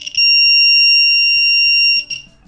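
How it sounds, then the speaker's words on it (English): A loud, piercing electronic buzzer triggered by an Arduino tilt sensor sounds continuously for about two seconds, cutting off near the end, with faint background noise. "but also the buzzer sounds."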